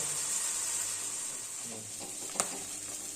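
Steady, fairly quiet sizzling of wasp larvae frying in a pan, with a brief sharp clink near the end.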